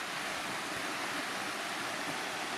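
A river in a Scottish Highland glen flows with a steady, broad rush of water, moderately quiet and continuous, with no voices.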